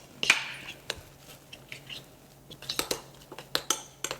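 A spoon stirs mackerel soup in a pot, making light scattered clinks and scrapes against the metal, close but soft, growing busier toward the end.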